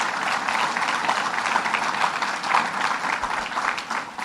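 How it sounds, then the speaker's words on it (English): Audience applause at a sustainability conference in Rochester, a full, steady roar of many people clapping together, loud and sustained for the whole stretch with no talking over it. "Let's give her a round of applause."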